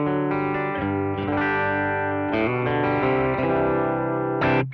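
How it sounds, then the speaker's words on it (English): Fender Acoustasonic Strat playing its built-in gainy electric tone in position 5B: sustained, distorted strummed chords that ring thick and loud for several seconds, with a brief final stab at the end. "I'm actually just going to use the electric tone that comes straight out of the Acoustasonic"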